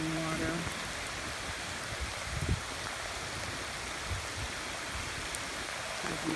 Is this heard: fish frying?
no